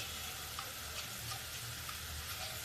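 Garlic, onion and spices frying steadily in a pan for a lobia curry, a soft continuous sizzle with faint crackles, close and alone with no talking.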